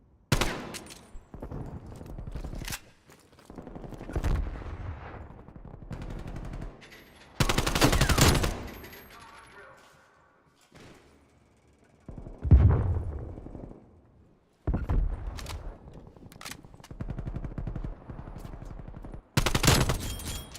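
Gunfire in a Call of Duty video game: repeated bursts of automatic fire and loud shots, in clusters separated by quieter gaps, some punctuated by heavy blasts.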